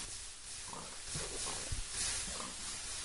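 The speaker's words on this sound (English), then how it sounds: "Pigs are annoying." Pigs in the video game Minecraft give a few faint, short grunts over a steady hiss of background noise.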